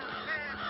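Faint, distant crows cawing in a short burst, harsh calls blending together over a steady airy background with no talk.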